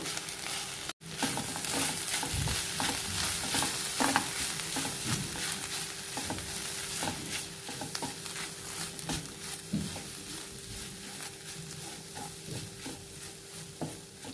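Amaranth leaf fry with chili powder being stirred in a pan, steady sizzling under repeated scraping and tossing strokes that continue throughout.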